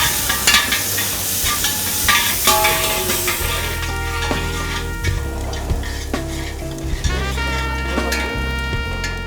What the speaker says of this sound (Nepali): अब यसलाई एकछिन भुट्छौँ